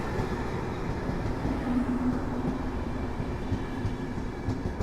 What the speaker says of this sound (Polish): A my oglądamy wjazd EP09012 z Intercity Porta Morawica